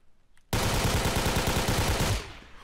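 Garry's Mod SMG or assault rifle gunfire, a sudden loud automatic burst of rapid, evenly spaced shots lasting under two seconds before cutting off.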